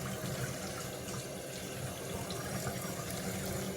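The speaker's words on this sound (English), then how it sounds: "gonna rinse off with some cold water." Cold water running steadily from a bathroom tap while rinsing off after a shave, a continuous close splashing hiss with no pauses and no voices.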